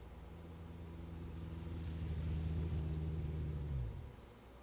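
A motorcycle engine in the video game Kentucky Route Zero drones low and even, then winds down and fades near the end, with no voices.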